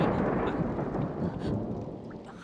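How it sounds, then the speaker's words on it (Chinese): Thunder in a stormy night, a continuous low rolling rumble mixed with rain noise, fairly loud and close, with no voices. "师兄，我怕打雷。"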